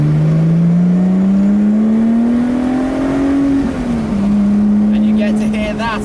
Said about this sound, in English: you can immediately hear the valves opening up, getting a little bit louder